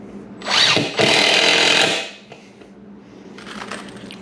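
A power drill drives screws into wood for a lockable drill shelf, two close whirring bursts of about half a second and one second, then a quieter handling patch.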